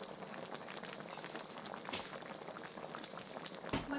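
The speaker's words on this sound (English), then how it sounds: "we're just gonna let this boil up for about another 2 to 3 minutes" Giant prawns in ketchup sauce with a splash of Sprite boil in a pot, cooked Filipino style, giving a steady, busy bubbling and crackling that stays constant and close without any voices.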